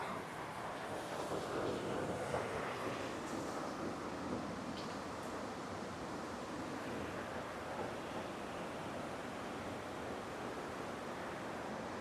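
Water flows near the double decker living root bridge at Nongriat in Meghalaya, heard as a steady, broadband rushing roar that stays even and unbroken throughout.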